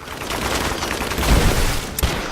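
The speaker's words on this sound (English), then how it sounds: "dodging that gunfire like Neo" A rapid burst of video game gunfire in Rise of the Tomb Raider crackles in quick succession, dense and close, with a sharper shot standing out near the end.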